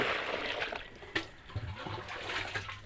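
Water pours and splashes outdoors during work near a hut under construction, a broad continuous rush with a few sharper splashes and knocks, fairly close and without talk.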